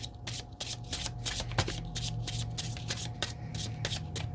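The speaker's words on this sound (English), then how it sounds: "I'm going to pull some of these affirmation cards" Ascension-style affirmation cards are shuffled by hand in quick, close, crisp riffling bursts, repeating rhythmically with no talking.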